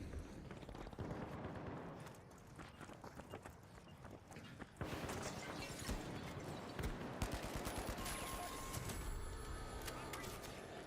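Rapid gunfire in the online shooter game The Finals, dense bursts of shots layered over constant game noise and effects, loud and continuous, with no talking.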